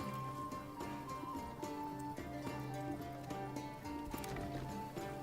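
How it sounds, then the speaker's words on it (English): Horses pulling traders' carts in Manor Lords, a steady clip-clop of hooves mixed with rolling cart noise and background game music. "Instead of pulling their carts, they have horses pull them."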